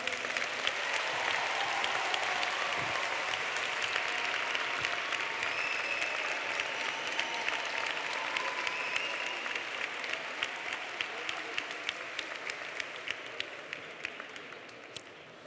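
Sustained applause from a graduation ceremony audience, steady and dense crowd clapping that fills the hall throughout before tapering slightly at the end.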